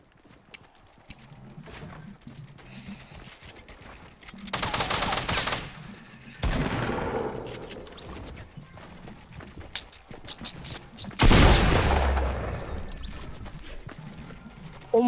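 Bursts of automatic gunfire in the video game Fortnite come in loud rapid volleys separated by quieter stretches, with sharp single cracks in between and a voice briefly heard.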